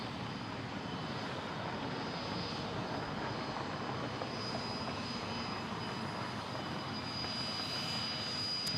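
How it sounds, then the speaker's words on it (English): A Learjet taxiing out along a taxiway at Dallas Love Field airport, a steady, continuous jet engine whine and rumble heard from a moderate distance with no voices. "Well, another Learjet taxiing out."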